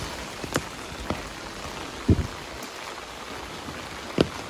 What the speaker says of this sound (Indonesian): Ini pas suasana hujan.